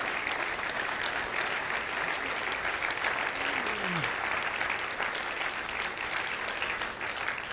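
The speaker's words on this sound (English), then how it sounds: "can we give them a round of applause too?" Memorial Day audience applauding to honor veterans, a steady, dense wash of many hands clapping continuously throughout, moderately near, with no voices over it.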